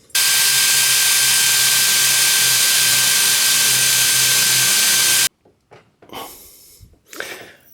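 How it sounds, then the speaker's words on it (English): A power drill bores holes in metal for rivets, running loud and steady for about five seconds before stopping, followed by a few softer handling and scraping noises. "now I'm going to drill some lovely holes."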